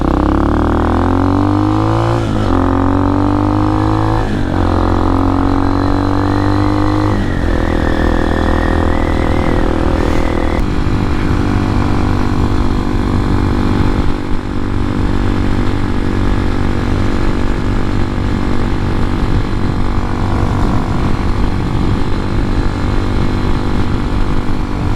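An X-Pro Hawk DLX 250 motorcycle engine revs up through the gears while riding, pitch climbing and dropping at each shift, then settling into a loud, steady cruising drone with wind noise.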